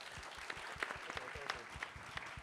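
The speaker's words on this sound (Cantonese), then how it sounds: "我哋再一次俾掌聲胡醫生。" An audience applauds Dr. Wu at a distinguished ophthalmology lecture, a steady patter of many hands clapping in a hall, moderately distant and continuous.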